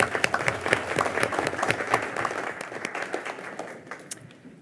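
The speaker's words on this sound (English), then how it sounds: "how about another round of applause then for the students?" Applause from the audience at a city planning commission meeting, a dense crowd clapping steadily for the students and gradually thinning and fading toward the end.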